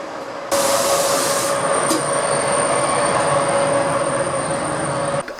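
A Czech train rumbles steadily through a station at close range with a continuous roar, faint wheel squeal and hiss, fading out abruptly at the end.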